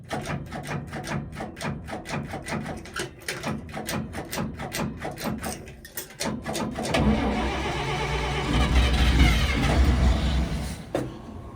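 1955 International R160 dump truck engine cranking with a rapid, rhythmic starter chug for several seconds, a brief pause, then catching and running with a rough, loud, low rumble.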